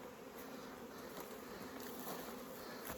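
A dense, steady buzzing of many honeybees swarming close by around a hive in August, a continuous hum with no voices.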